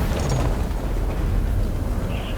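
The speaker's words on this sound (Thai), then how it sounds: "อุ้ยระเบิดเลย" A loud, dense roar of an explosion in God of War Ragnarök fills the whole stretch, a sustained rumbling blast with no voices over it.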